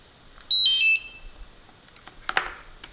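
A DJI Mavic Pro remote controller gives a short series of sharp electronic beeps as it shuts down, clear and close, followed by faint handling clicks and rustling.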